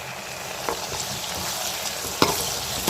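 Onion, tomato and green chili sautéing in a pan for a fish curry, giving a steady, close frying hiss with a few scraping stirs and one sharp clink of the spatula.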